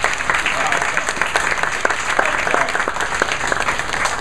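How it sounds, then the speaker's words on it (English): Steady audience applause from a seminar crowd, dense continuous clapping at moderate loudness throughout, with a voice faintly audible over it. "Give yourselves a round of applause."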